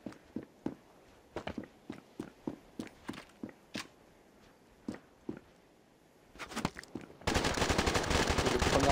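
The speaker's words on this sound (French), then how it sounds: "Les premières balles qui sont reçues par Floax." Gunfire in a competitive shooter video game match, scattered sharp shots and short bursts with footsteps, then a dense continuous loud burst at the end.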